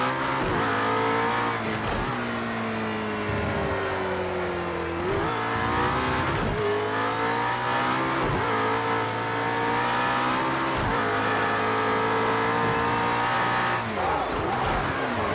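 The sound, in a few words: race car accelerating at Dubai in the video game Project Cars 2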